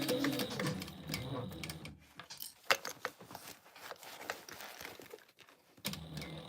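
A home sewing machine stitches along the seam of a sling bag, its mechanical whirring and rapid needle clatter running in quiet, close bursts with brief pauses between stretches of sewing.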